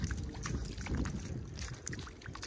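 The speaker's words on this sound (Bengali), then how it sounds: "হ্যাঁ, নৌকাটা ছেড়া দিল।" A boat pushes off on a river amid gusty wind buffeting the microphone, with a low churning rumble and splashy water noise close by for a couple of seconds. No speech.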